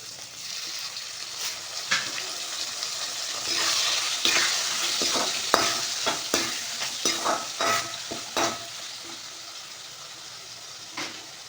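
Tomatoes go into a pan of softened onions for a fish curry, bringing a bright steady sizzle with repeated scraping and knocking of the spoon as the mixture is stirred, no voices.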